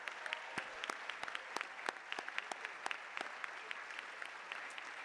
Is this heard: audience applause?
yes